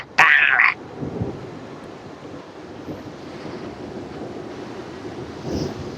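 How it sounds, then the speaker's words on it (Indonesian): Big ocean waves pound the shore: one loud, abrupt crash opens, then a continuous low rumble of surf and wind follows, with a softer swell near the end. "Dari tadi ombak ini selalu besar menghantam."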